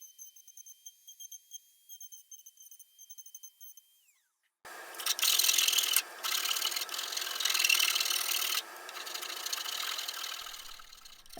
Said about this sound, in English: I've got it's either a Kutzall or a Sabertooth brand carbide burr on the end of this Dremel